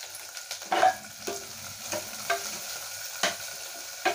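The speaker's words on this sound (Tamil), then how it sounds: "இப்போ லைட்டாக மஞ்சள் இதிலே போட்டு வதக்கிக்கலாங்க." Onions, chillies and turmeric sauté in a pan under a steady soft sizzle, while a spoon stirs and scrapes through them in repeated short strokes, close by and with no voices.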